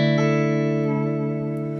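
Electric guitar played through a Boss Katana amp on the clean channel with reverb, a single sustained chord ringing loud and bright, then slowly decaying with a reverberant tail.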